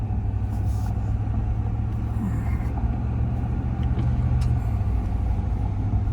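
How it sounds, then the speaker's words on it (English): A school bus approaches on a rural road in the southern Paradise Valley of Montana, a steady low engine rumble heard from inside a vehicle, with no clear rise as it nears. "We got a school bus coming here."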